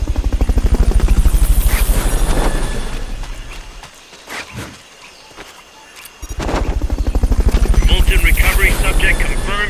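Helicopter in the Metal Gear Peace Walker video game, a loud steady rotor chop throbbing through most of the clip, dropping away briefly in the middle before returning, with game voices over it.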